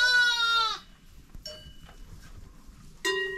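Young goat kids bleat loudly close by on a Maramureș sheep farm, a long wavering cry at the start, then a faint call midway and another sharp bleat at the end, over quiet farmyard background.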